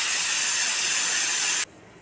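A pressure cooker on a stove, cooking masoor dal with raw mango, lets out a loud, sharp steam whistle. The hiss holds steady for about a second and a half, then cuts off abruptly, leaving quiet behind.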